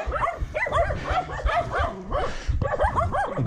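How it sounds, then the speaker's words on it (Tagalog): Dog barking and yipping excitedly in quick repeated bursts, close and fairly loud, with whimpering tones, encountered along a mountain bike trail at Sitio Halang, Jalajala. "Ang aso."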